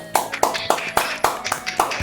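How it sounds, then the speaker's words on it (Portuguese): Hands clap in a steady, even rhythm, about seven distinct claps close by, following devotional chanting at a Hare Krishna gathering; the claps ring sharp and loud with nothing else heard. "Palmas para elas aí"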